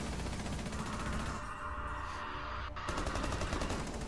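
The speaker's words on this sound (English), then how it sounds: "Did he shoot through the wall?" Dense gunfire in a video game firefight, with a shot fired through a wall; the loud, steady burst of game noise sharpens into a sudden crack near the end.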